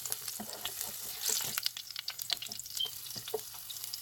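Aromatics frying in hot oil for curried rice, a steady crackling sizzle with scattered pops and light stirring clinks, close and moderately loud throughout.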